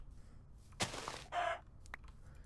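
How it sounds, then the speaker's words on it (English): Chickens in a survival-crafting video game cluck in two short loud bursts, followed by a brief sharp peep, with no talk. "There was more chickens over yonder."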